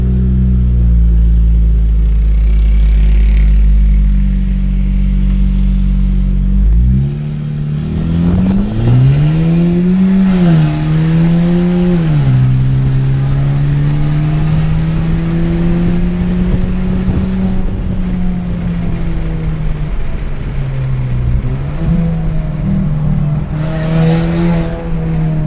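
A Chevrolet Tracker Premier 1.4 Turbo, remapped to Stage 2 with downpipe and exhaust diffuser, idles loudly, then revs and accelerates hard through several gears, engine pitch climbing and dropping with each shift, close-miked and continuous.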